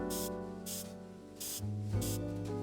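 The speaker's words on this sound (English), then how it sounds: "Straight on the table, spray the table, and we'll get the first bit of evidence." Spray bottle misting a table in the Frog Detective video game, four short airy hissing bursts in a steady rhythm over a soft background music bed, close and clear.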